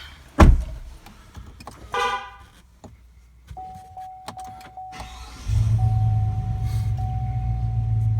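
A Chevy Silverado truck's engine cranks and catches, then settles into a steady, loud idle rumble. Door clunks, a short rattle and a repeating electronic warning chime come first, with no talking.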